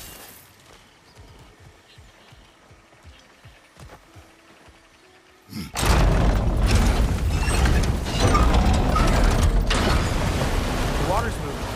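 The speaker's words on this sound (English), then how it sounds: "Surely that's unjammed the wheel." A jammed wheel mechanism turns in God of War Ragnarök, starting with quiet ratcheting clicks and creaks before a loud, sudden surge of grinding, churning machinery that continues steadily.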